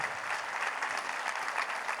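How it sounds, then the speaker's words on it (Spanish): A church congregation applauding, a dense, steady wash of many hands clapping together, evenly loud throughout with no speech over it. "Denle un aplauso al Señor"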